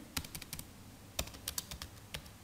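Python code being typed on a computer keyboard, a string of distinct, crisp key clicks in irregular quick bursts with short pauses, close and clear against a quiet background.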